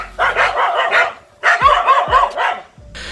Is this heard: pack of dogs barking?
yes